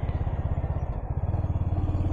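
A Royal Enfield Hunter 350 motorcycle climbs a hill road in fourth gear, its engine giving a steady, close, low thumping pulse with a slight dip in the middle.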